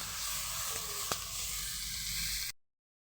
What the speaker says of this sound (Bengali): টুকরো করা এটাকে পেঁয়াজটার সঙ্গে একটু ভেজে নেব দু মিনিট শুধু নাড়াচাড়া করে